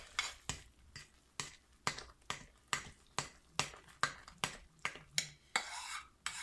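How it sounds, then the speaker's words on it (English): A spoon stirs down bubbling hot process acne soap in a pot, giving a steady rhythm of about a dozen distinct scraping knocks, close and clear with no talking. "I'm going to go ahead and stir it down since I already have the lid out"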